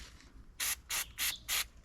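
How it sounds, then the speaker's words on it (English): Four short, evenly spaced bursts of degreaser spray hiss into a boat outboard motor's carburettor during repairs on a tinny, each burst sharp and close with quiet pauses between. "I'll give that a bit of a spray with degreaser through there"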